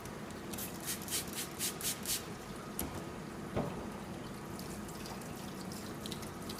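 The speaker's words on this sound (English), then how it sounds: "and then you're going to rinse it with water again" Water rinses over an etching plate in a steady splashing run, with a few louder spurts early on and a faint clatter midway, no voices.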